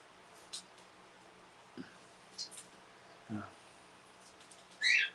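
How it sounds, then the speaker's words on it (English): Small birds chirp indoors in a quiet room, a few brief, sparse tweets spaced irregularly, with a louder final call near the end. "As always, the birds are beeping."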